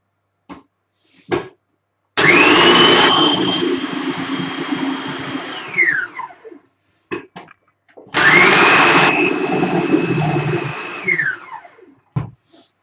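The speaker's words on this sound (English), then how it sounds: "pop them into the food processor" A food processor blends tomato soup ingredients in two loud bursts of motor whirring, each running about four seconds and then winding down, with short clicks and knocks between them.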